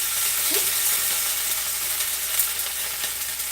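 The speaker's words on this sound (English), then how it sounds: "we're gonna leave it on the stove for it to simmer while the rice is being cooked" A pot of meatless dinner simmering on the stove, a continuous sizzling hiss with small crackles and occasional stirring scrapes, steady and close, no voices.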